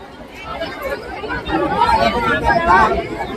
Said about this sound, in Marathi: अशी अक्कलकोटला गर्दी आहे.